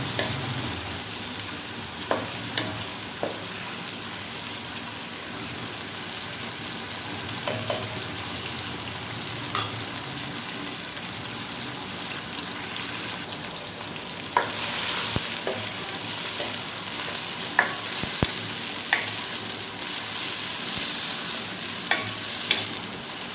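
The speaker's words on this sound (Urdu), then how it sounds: "اب اس ہم ایک درمیانہ سائز کا پیاز ڈالیں گے۔ پیاز کو اچھی طرح سے فرائی کرنا ہے۔" A medium-sized onion fries in hot oil for a chana recipe, giving a continuous bright sizzle with occasional pops and the clicks of a spoon stirring, with no talk.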